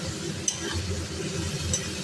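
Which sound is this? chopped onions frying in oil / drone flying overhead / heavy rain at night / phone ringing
chopped onions frying in oil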